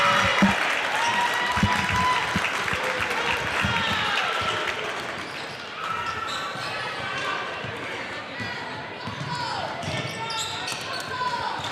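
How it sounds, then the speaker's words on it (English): A basketball game crowd roars loudly and continuously, with cheering, shouts and a bouncing ball, under a commentator's voice. "And this crowd is getting loud."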